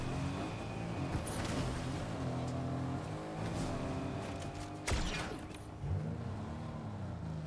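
A car engine in Fortnite hums and revs through gear changes, with passing whooshes and a sharp burst midway, continuous and fairly close.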